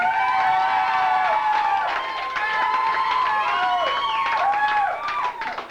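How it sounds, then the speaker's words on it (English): A stand-up comedy club crowd claps and cheers loudly and continuously, with shouts and whoops rising above the applause. "Are you applauding because you're fans or you're not fans?"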